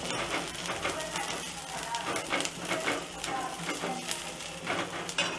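Chopped onion hitting hot oil in a pan with garlic sizzles steadily for several seconds, with faint stirring clinks from a utensil on the pan and close-up frying crackle throughout.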